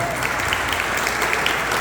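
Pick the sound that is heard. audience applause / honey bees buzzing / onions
audience applause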